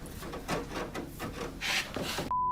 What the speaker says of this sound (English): Oh, clawing at the door.